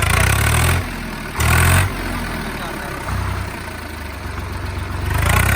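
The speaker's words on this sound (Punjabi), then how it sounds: "ਬਿਲਕੁਲ ਸੋਨੋ ਕੇ ਟਰੈਕਟਰ ਚੱਲਦਾ ਵਾ" A 2010 Swaraj 855 tractor engine runs nearby, chugging steadily, with its loudness swelling and dropping in a few bursts.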